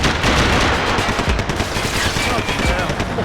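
Rapid gunfire from Max Payne 3 crackles loudly and continuously, overlapping bursts and automatic fire filling the whole stretch as a dense, close firefight.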